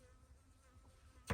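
At a campsite, a fly buzzes around the camera in a faint, steady drone that ends in a sudden loud burst as it passes close.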